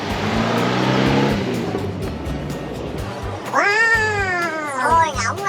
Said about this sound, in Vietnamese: Wow, ôi ngỗng à.